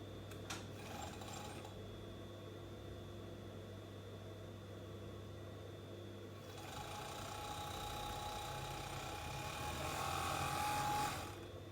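A home sewing machine runs steadily while stitching knit fabric for leggings, a continuous whirring drone that grows somewhat louder and busier partway through before stopping near the end.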